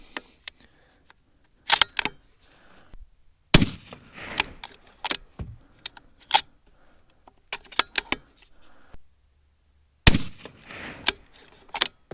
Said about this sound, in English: You gotta love a heavy 223 recoil. It just doesn't move.